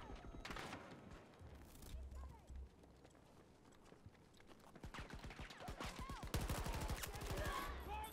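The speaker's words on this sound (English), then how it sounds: "I'm just gonna hip fire, it's better than aiming." Hip-fired gun bursts in Battlefield 2042 on the Kaleidoscope map, rapid shots in clusters with a dense run toward the end, amid busy game noise and some talk.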